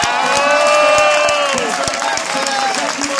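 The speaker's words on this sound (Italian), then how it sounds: "Ed ora Diego Rosa, facciamo un grande applauso." A crowd applauds and cheers as a professional cyclist is introduced at a rider presentation in Pinerolo, scattered claps and crowd noise under a loud voice with ringing tones over the top.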